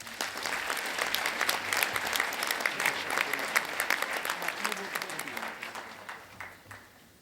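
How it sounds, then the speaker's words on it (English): An audience at a disaster-preparedness conference gives the first presenter sustained, moderately loud applause that thins out and fades near the end. "Please give him a round of applause."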